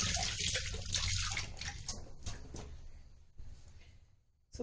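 Fish being washed by hand in water with salt, steady splashing and sloshing near and loud, fading toward the end.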